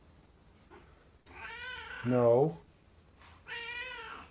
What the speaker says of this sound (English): I love that little kitty, but man, he is a pest